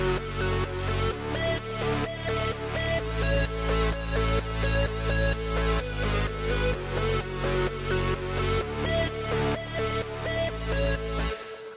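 EDM chord progression built from an arpeggiated synth patch panned left and right over a heavy synth bass patch, a steady pulsing pattern of rapid notes with bass changes every second or so, loud and continuous with no talking.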